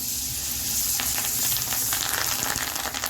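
Curry leaves dropped into hot ghee for Karnataka-style bisi bele bath, crackling and sizzling briskly up close with sharp pops over a constant frying hiss.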